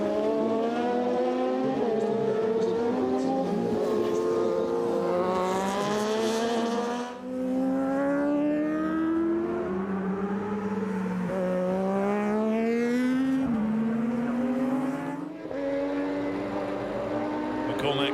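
Racing motorcycles, including a Borg Kjus Racing Yamaha, scream past at the Imatra road race, engines rising and falling through gear changes, loud and close throughout with a commentator talking over them.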